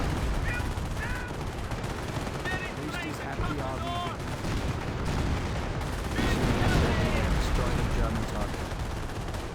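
Rapid gunfire in the Company of Heroes 1 video game, a dense stream of machine-gun bursts and rifle shots crackling continuously against a battlefield din, with in-game voices briefly audible.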